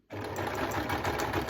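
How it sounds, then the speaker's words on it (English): Sewing machine stitching steadily around a figure on a people-themed quilt, a fast continuous whirring rattle that starts abruptly and runs close and loud without a break. "Let's just sew around this."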